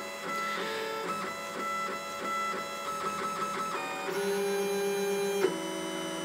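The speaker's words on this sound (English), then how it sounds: "it's just going to wipe its nozzle at the back there on the felt pad" A Lulzbot Mini 3D printer wipes its nozzle on a felt pad, giving steady stepper-motor whirring with rhythmic pulses and then a sustained tonal hum near the end, close and fairly quiet, with no speech.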